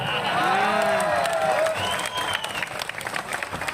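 Audience at a Holi and International Women's Day poetry gathering (kavi sammelan) breaks into loud, sustained clapping and cheering, with a voice carrying over the crowd before it tapers off.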